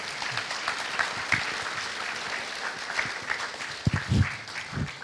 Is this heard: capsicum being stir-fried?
no